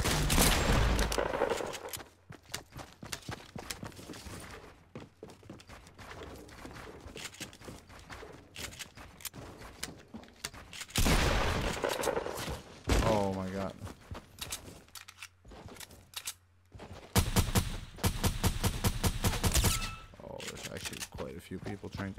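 Gunfire in the video game Fortnite, with bursts of rapid shots alternating with footsteps and quieter gaps, while a person talks over much of it.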